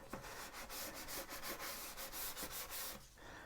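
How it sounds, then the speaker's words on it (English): Micro mesh pads rub steadily back and forth over the hull of a 1/400 Queen Mary 2 model ship, a close, continuous dry scratching with a regular stroke rhythm and no voices. "So the process of using micro mesh pads is just the same as sanding."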